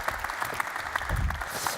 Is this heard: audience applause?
yes